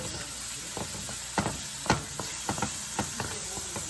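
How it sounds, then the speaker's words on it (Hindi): Ground masala spices with tomato paste and paprika fry in hot oil in a pan, a steady soft sizzle broken by scattered crackles and pops, with no talk. "अभी इनको भूनेंगे सबको"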